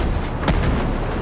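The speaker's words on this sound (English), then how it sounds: "enemies attacking with mortars." Mortar fire in a GI Joe video game, a single heavy thump over a dense, noisy battle backdrop.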